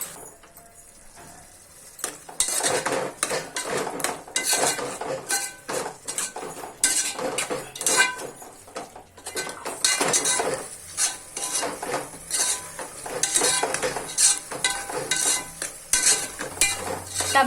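Tomatoes are added to fried mushrooms in a pan and stirred, producing dense, busy clattering and scraping of a utensil against the pan over a low sizzle. The activity starts after a quiet opening and keeps up steadily.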